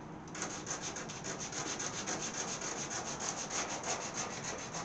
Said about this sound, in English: now I can take a little piece of sandpaper and just